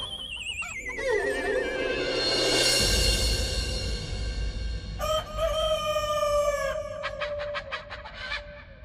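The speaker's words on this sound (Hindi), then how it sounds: "देखा, आज धनी मनी वही रूपवती मुर्गी को आपके लिए लेके आए हैं।" A chicken is heard in a comic Tenali Rama television episode as loud squawking, crowing-like calls that rise and fall in quick bursts, ending in a rapid string of sharp clucks, with no speech.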